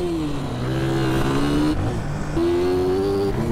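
Motorcycle engine from GTA San Andreas, a 250 cc bike fitted with MT-03 parts, droning loudly and steadily with pitch rising and falling as it revs, close and continuous with no talk.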